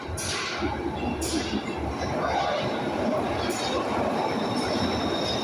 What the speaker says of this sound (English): here comes the next outer circle Glasgow subway.